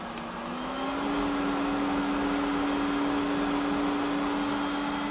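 A pool pump motor running at its second speed, around 2,500 RPM, gives a steady, loud mechanical hum with a constant tone that settles in after the first second and continues alone without voices.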